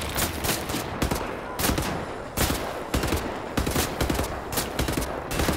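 Sustained gunfire in the video game Wolfenstein The New Order, rapid bursts of shots in uneven clusters, loud and close without talk.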